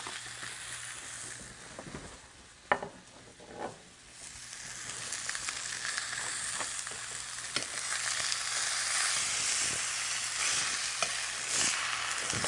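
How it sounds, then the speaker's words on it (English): Meat searing in a pan before braising gives a steady hiss that builds and grows louder toward the end, with a few sharp utensil knocks and scrapes near the start. The sizzle is close-up and heard alone, without talk. "So it's going to get a nice sear, again, 5 minutes on that side."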